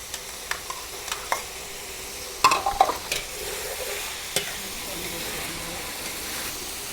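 Pork and shrimp stir-fried with garlic in a pan for a sweet-and-sour dish, a steady sizzle broken by a quick run of scraping clatters near the middle and a few lighter taps.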